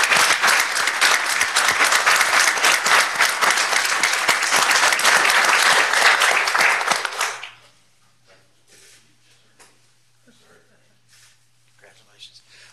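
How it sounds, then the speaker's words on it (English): A city council chamber breaks into a loud, sustained round of applause for a fire lieutenant, dense clapping lasting about seven seconds before cutting off to near silence with faint murmurs. "Let's give Matt a round of applause."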